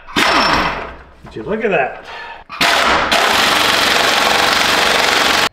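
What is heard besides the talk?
impact gun tightening Cummins motor mount bolts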